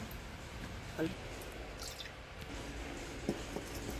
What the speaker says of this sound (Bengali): এটা নামিয়ে নেওয়া হলো, ঢেলে দেওয়া হচ্ছে